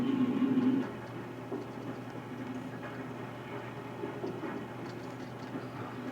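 An HHP8 electric locomotive in Microsoft Train Simulator gives a steady low rumble and a hiss of brake pressure, with a louder burst at the start and then an even drone, with no talking.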